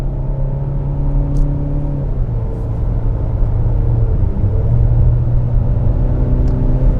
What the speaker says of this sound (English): we have here the turbocharged 4-cylinder engine, because this is the P250 model